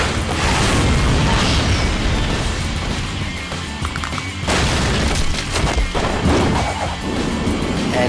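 Loud, dense blasts and crashing impacts from a double explosion judo flip in a Chuck Norris versus Segata Sanshiro Death Battle fight, sustained bursts with a sharp break midway, no talking.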